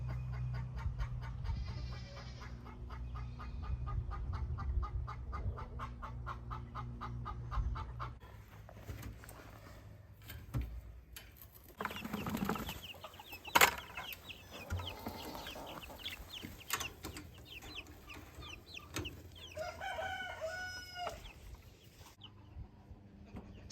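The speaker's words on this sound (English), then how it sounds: "We're moving in some barred rock chicks and some black copper marin chicks." Barred Rock and Black Copper Marans chicks and chickens clucking and peeping nearby, with repeated chirps and occasional louder calls and rustling, no talk.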